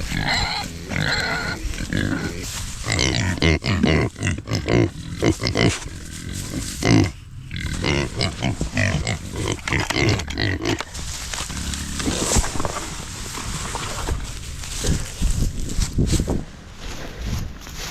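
Pigs grunt and squeal repeatedly at close range, an irregular stream of snorts and oinks with some shuffling around them.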